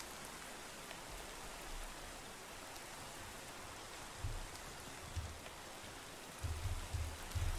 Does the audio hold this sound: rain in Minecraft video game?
yes